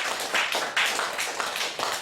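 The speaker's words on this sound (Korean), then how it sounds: "우리 존경의 박수를 우리 서로에게 보내드립니다" A church congregation claps together during a Mother's/Parents' Day service, a steady broadband patter of many hands with a few swells, moderately loud and without speech.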